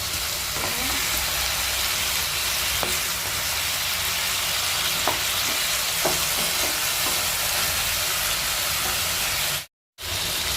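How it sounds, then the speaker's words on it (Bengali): Bottle gourd greens and mixed vegetables stir-fry in a pan, a steady close sizzle and hiss with several sharp clicks of a spatula turning the food, and a brief dropout near the end. "হালকা হাতে মা এবার এটা নেড়ে চেড়ে ভেজে নেবে"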